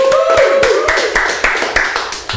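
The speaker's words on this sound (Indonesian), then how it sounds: "Tepuk tangan dulu dong." Audience applause: a short burst of rhythmic clapping, loud and close, with a voice or musical tone sliding underneath at the start.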